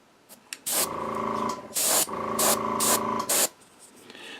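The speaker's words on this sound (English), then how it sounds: "I'm just going to airbrush it on" Airbrush spraying pigment fixer onto a miniature, several close hissing bursts of varying length, some brief and some sustained for about a second, with short pauses between.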